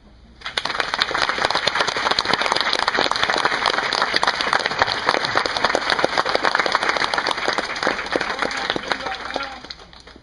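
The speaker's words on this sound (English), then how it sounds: "Let's give them a round of applause." An audience applauds the performers at a Cherokee Indian war demonstration, with dense, steady clapping from a crowd that holds for about nine seconds before cutting off, and some voices mixed in.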